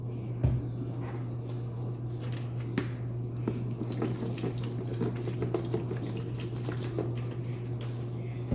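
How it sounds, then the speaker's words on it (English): Hot water runs from a tap into a cleaning bucket in a steady close splashing rush with a few knocks and clinks of the bucket, over a constant low hum. "now I'm gonna add hot water"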